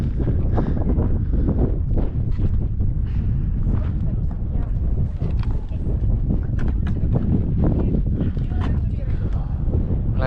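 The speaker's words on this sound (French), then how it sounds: "il y a un peu de vent" Strong wind buffets the microphone on a high mountain pass, around 2,000 metres up, during a moped road trip through the Alps. The roar is loud and constant and fills the whole stretch.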